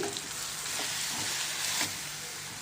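A spatula stirs a sizzling tomato and chili masala in a hot pan, the base for a prawn tomato curry; steady frying hiss with soft scraping strokes, close and continuous, with no talking.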